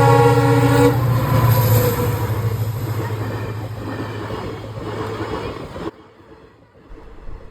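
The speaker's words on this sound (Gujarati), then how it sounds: "અમે રેલગાડી નીકળે તો અહીંયા ઉભા રહ્યા જોવા" A train passes along a railway line near a level crossing. It opens with a loud horn-like blast, then a steady, close rumble of wagons rolls by for several seconds before cutting off abruptly and leaving fainter noise.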